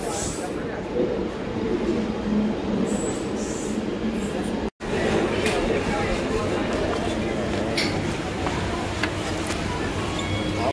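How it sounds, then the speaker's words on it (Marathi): A local train arrives, rumbling and rattling nearby with steady rolling noise and occasional metallic wheel squeals, while people talk in a busy, crowded station at evening rush hour. "तर आपली ट्रेन पण आली आहे"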